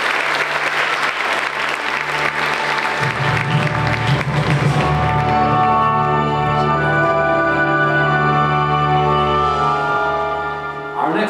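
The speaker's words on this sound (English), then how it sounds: "Let's have a round of applause for all of our veterans." An audience applauds veterans with loud, sustained clapping across the whole clip, and sustained musical tones rise underneath it partway through.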